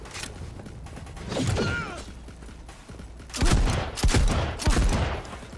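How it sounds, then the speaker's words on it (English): Several shotgun blasts ring out in Cyberpunk 2077, a muffled shot early followed by three heavy booming discharges in quick succession near the end, with mechanical clunks between them. "This is a nice little shotgun."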